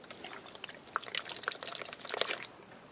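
A water-filled Shopkins glitter globe is shaken, giving soft sloshing and a few small splashy trickles, faint and close, with no voices.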